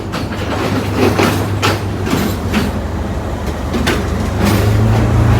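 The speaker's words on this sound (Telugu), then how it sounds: "రచ్చ రచ్చగా ఉందండి ట్రైన్ రాగానే" A train pulling into a busy station in Sri Lanka, with a steady loud rumble of rolling railcars and faint clatter throughout, and a crowd murmuring around it.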